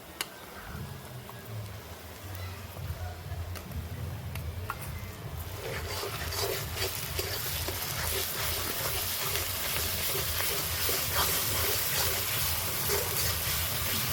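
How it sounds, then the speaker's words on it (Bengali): Ginger and dried chili paste frying in hot oil for mutton kosha, a steady hissing sizzle that grows louder and denser over the clip, with no talking. "এটা দিয়ে আর একটু ভেজে নেব"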